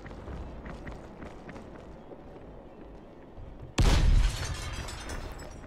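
An explosion in the zombie video game Dying Light erupts as a sudden loud blast after quieter game ambience and faint voices, then settles into a rumbling, crackling tail.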